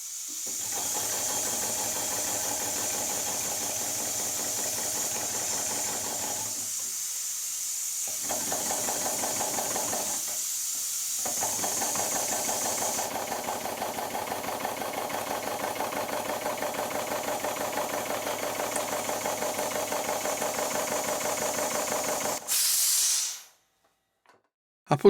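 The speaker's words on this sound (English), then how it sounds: "I'm going to put some compressed air in the boiler and give it a try." Vintage model traction engine in worn condition, driven by compressed air fed into its boiler, giving a steady hissing, chuffing run for about twenty seconds with a couple of short pauses before it cuts off abruptly.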